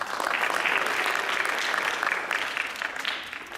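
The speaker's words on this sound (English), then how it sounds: "give yourselves a round of applause for being such a great audience" An audience claps steadily at a community gathering in Houston, the applause fairly soft and even for a few seconds with no voices over it.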